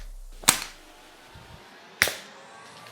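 A Nerf Gelfire Ignitor gel blaster firing at card targets, two sharp close snaps about one and a half seconds apart, with faint handling noises between them.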